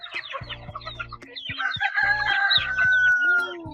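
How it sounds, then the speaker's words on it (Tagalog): A rooster crows nearby in a long drawn-out call while several chickens cluck and chatter around it at feeding time. "aming makisig na tandang."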